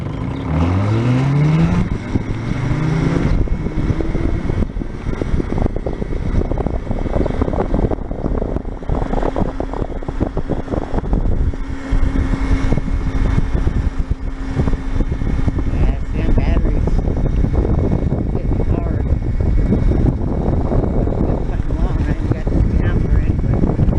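An Aerial Atom go-kart pulls away from a standstill and keeps driving, its small engine revving up and droning loudly close by, with wind buffeting and a voice talking over it.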